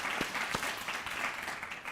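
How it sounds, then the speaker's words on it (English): Brief, fairly quiet applause at a scholarship recognition brunch, with a couple of sharper claps standing out from a soft, steady patter of hands. "let's give another round of applause to Mark Metchsek and his wife Chris"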